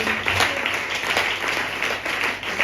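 A church congregation breaks into sustained applause acclaiming the Lord during a sermon, a dense, steady roar of many hands clapping throughout, without speech.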